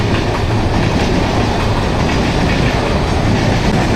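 A Mumbai local train running at speed: loud, continuous wheel-and-rail roar with rhythmic clickety-clack from close inside the carriage, no talking.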